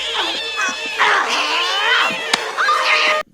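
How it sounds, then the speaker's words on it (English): Cats yowl and caterwaul in an attack scene from a horror film, several drawn-out, overlapping screeching meows that are loud and close, with a sharp thump partway through. "But the cats then attack Mother Dearest."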